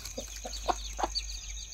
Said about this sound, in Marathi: गावरान कोंबडीच्या खाली 19 पिल्लं आहेत